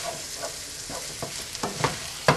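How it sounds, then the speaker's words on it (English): Lobster is stirred into curry in a hot pan, a steady sizzle broken by repeated scraping strokes of the utensil that grow louder toward the end. "Then I'm going to start stirring in the lobster."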